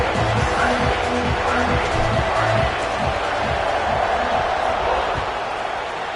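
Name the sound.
football stadium crowd buzzing after a score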